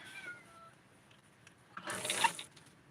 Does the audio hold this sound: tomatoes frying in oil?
no